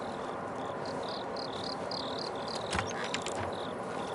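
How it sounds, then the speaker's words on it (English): Crickets chirp in a box, repeated short high-pitched pulses in an irregular rhythm over a faint hiss, with a few brief clicks and rustles in the middle. "This is like a box of crickets or something."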